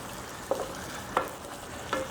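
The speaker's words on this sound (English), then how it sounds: "Stir that around." A spoon stirs sloppy joe mixture with onion powder and spices in a hot frying pan, giving three distinct scraping strokes over a steady soft sizzle, close up with no talking.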